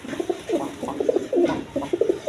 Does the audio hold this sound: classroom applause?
no